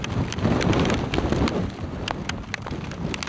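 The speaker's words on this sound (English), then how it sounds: "but this is now a hailstorm." Hailstorm pelting down during a motorcycle ride on a mountain pass, a dense patter of sharp hits and clatters over a gusty wind roar, close and continuous with no talk.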